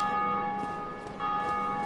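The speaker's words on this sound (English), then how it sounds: "Someone else rang the bell!" A bell tolls in Dark Souls: Remastered, a sustained ringing tone that hangs steadily across the clip, briefly dipping before swelling again, loud and alone with no talk.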